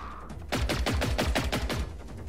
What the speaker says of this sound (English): I can't tell where it's shooting from.